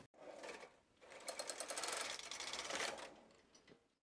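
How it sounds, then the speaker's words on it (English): A Brother 260 bulky knitting machine carriage, fitted with a ribber for circular knitting, slides across one row, making a steady whirring, clattering mechanical run of about three seconds that swells and fades near the end. "Now we are ready to knit one row."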